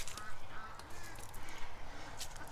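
Ducks fenced into a muddy yard with a creek running through it quack in scattered bursts over an open outdoor background, moderately close, with no voices present.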